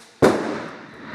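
An airsoft grenade goes off with one sharp, loud burst, its boom fading quickly into an open outdoor field.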